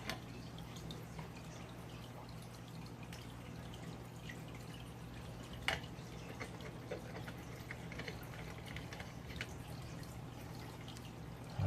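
Water dripping and trickling from a kitchen faucet fitted with a color-changing LED light attachment, a faint steady trickle with scattered drips and one sharper splash midway.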